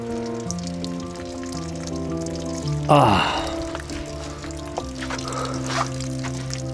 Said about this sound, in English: Yes, it's leaking everywhere downstairs.